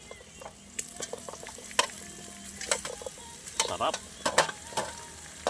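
Chicken feet and pineapple chunks sautéing in a hot pan, a continuous sizzle broken by frequent clinks and scrapes of a spoon against the metal, with a brief spoken word over it.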